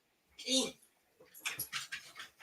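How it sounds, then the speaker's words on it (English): Dog whimpering in soft, high-pitched bursts, one near the start and then a rapid run of short whines, faint and somewhat distant, with no talk over it. "Did I hear a dog then?"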